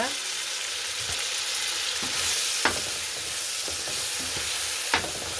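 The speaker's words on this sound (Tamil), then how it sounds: "அதையும் சேர்த்து வடிவாக கிளறி விடுவோம்" Green chillies frying in a pan and being stirred, with a steady loud sizzle throughout and a few sharp scraping clicks of the spoon against the pan.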